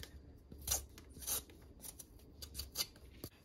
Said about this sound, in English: Then we're going to start the slicing of this potato.